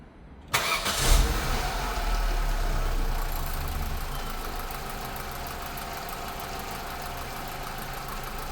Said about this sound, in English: and then start the engine